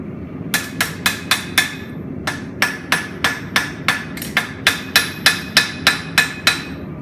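A hammer pounds a hot steel dagger blank on an anvil, sharp ringing strikes close and loud, first a quick burst of five, a brief pause, then a long steady series of about a dozen evenly timed blows, with no talking.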